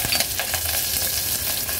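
Asafoetida and curry leaves crackle and sizzle in hot oil inside a pressure cooker, a dense, close, loud spitting hiss with scattered pops and stirring scrapes, with no talking.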